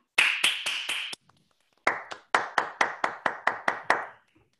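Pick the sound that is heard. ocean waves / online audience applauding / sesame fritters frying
online audience applauding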